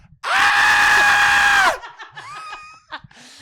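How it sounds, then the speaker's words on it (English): A loud, sustained scream from a scare actor at a haunted Halloween attraction, about a second and a half long, followed by quieter talk and laughter. "Give me your best scream"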